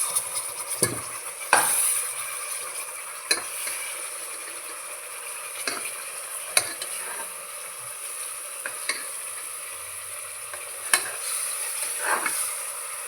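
Ground ripe tomato paste being stirred into a sizzling vegetable biryani masala, with a spoon scraping the pot at irregular intervals over a steady background fry.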